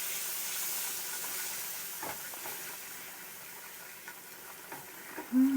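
Beef broth hits a hot pan for Swedish meatball gravy, giving a steady, soft steamy hiss that runs throughout with a few faint clicks, ending in a brief louder tone.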